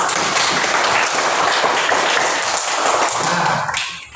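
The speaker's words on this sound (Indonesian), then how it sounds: "Tepuk tangan untuk semuanya." A classroom of students applauds together in a teaching session, a dense, loud burst of clapping that holds steady before tapering off at the end.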